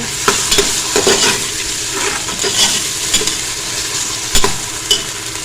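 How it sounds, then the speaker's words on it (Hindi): Ginger-garlic, chopped tomato and green chillies fry in a pan for Punjabi kadhi, with loud spoon clatter and scraping over a constant sizzle and irregular knocks throughout. "साथ ही इसमें डाल देंगे 1 कटा हुआ टमाटर और 2 से 3 सब्ज़ मिर्च"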